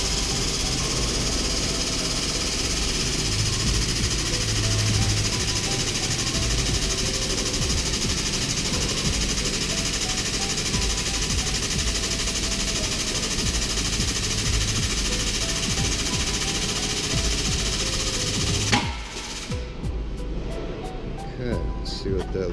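A bend tester presses a structural weld test coupon, lined up on the center of the weld. It gives a steady, loud mechanical drone for about nineteen seconds, then shifts abruptly into a lighter, rattling hum near the end.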